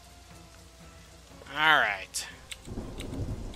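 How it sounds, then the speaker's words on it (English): Rain and thunder begin in the video game Dungetris: a low rumble and a sharp crack, then a steady hiss of rainfall, with a short spoken word in between. "the rain started"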